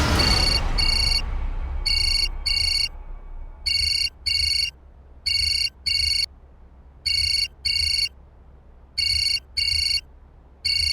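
An electronic phone ringtone trills in repeated paired bursts with short gaps between pairs, clear and steady across the whole stretch, with no talking.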